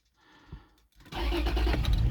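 A Toyota Land Cruiser Prado 120 with a 4-litre petrol engine and automatic gearbox cranks briefly and then catches, settling into a steady, close idle rumble after a short pause.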